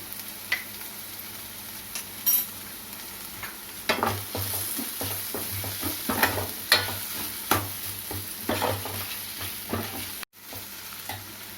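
Ginger garlic paste sizzling in a pan for a meal maker curry, a steady frying hiss broken by repeated close scraping stirs and clinks of a spoon against the pan.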